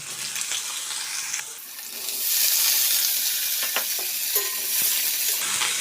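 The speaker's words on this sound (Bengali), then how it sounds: "এবার আমি কেটে রাখা আলু বেগুনগুলো দিয়ে দিলাম" Cut potatoes and eggplant dropped into hot oil with green chilli and nigella seeds, a dense hiss that swells louder after a couple of seconds and holds steady, with faint stirring scrapes, close and without talk.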